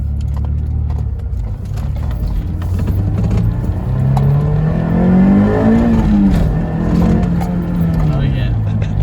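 A Honda S2000 AP1 with the F20C engine climbs in revs inside the cabin, its tone rising sharply into the VTEC range and then easing off, loud and continuous with faint rattles alongside.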